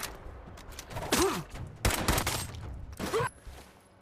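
Bursts of gunfire in Fallout 4, several sharp volleys at irregular intervals mixed with shouting voices and other game sounds.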